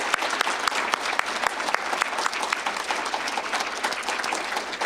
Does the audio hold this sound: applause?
yes